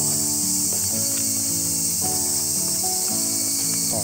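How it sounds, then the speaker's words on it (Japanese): A dense, steady wash of insect song, cicadas and higurashi evening cicadas, fills a hot summer evening at Matsushima in Miyagi, a continuous high shimmer with a few faint tonal calls layered underneath. "虫の音がすごい ね。 セミ、 ヒグラシ、 ヒグラシ。"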